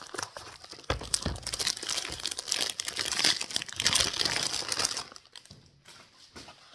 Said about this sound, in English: Trying to be careful with the packaging because I want to make sure that I don't damage the Slate frames by being careless.